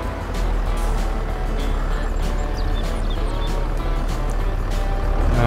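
Tractor engine in Farming Simulator 22 running at a steady, loud, continuous drone with a low rumble, alone and without talk.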